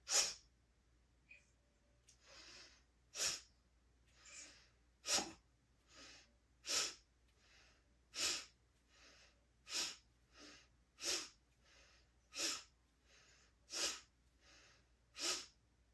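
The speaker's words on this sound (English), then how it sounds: "this is a really powerful breathing exercise" Forceful rhythmic breaths in a yoga class breathing exercise, sharp nasal exhalations repeating about once a second, alternating stronger and softer, close and clear without talk.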